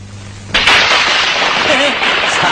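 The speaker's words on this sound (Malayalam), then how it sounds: "പടക്കം" Firecrackers burst during a scene in a Malayalam comedy film, starting with a sudden loud blast and then a sustained, dense crackling roar, with voices mixed in.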